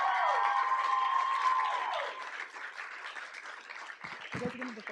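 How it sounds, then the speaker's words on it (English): Applause at a school board meeting, a crowd clapping steadily for a few seconds before it thins out, with voices talking over the fading claps. "So a big hand clap for doing all of that."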